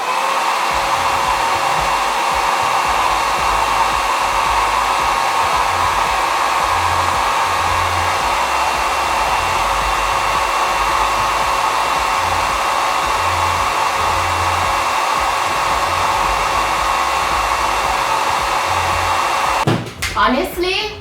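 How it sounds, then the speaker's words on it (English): Handheld blow dryer runs continuously on a wig's lace as it is pressed down with a comb tip, a steady loud whooshing drone that cuts off abruptly near the end. "After that, I take back the blow dryer with the tip of the comb and just press it in."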